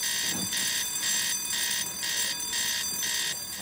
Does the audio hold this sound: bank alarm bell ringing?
yes